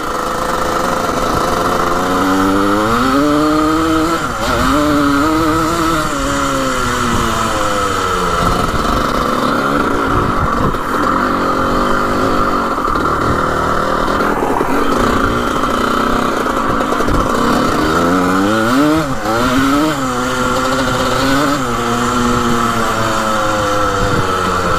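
A 1980 vintage racing dirt bike engine runs loud and close, its revs rising and falling in repeated pulls through the gears over a constant rumble.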